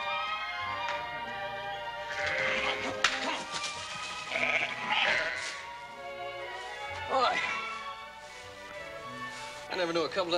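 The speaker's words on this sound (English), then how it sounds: "I never knew a couple dozen sheep could be so ornery." A couple dozen sheep bleating in a western outdoor setting, several overlapping bleats rising and falling at moderate distance, with people talking alongside.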